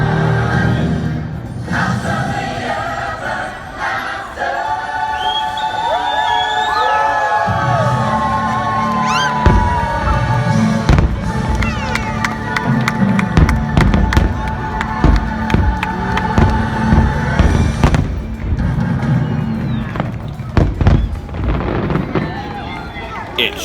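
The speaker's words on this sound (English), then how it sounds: "Then we watched a beautiful fireworks show." A fireworks show at Disney World with repeated booms and crackling bursts over a cheering, whooping crowd, voices and whistling tones mixed throughout, building to denser rapid pops toward the end.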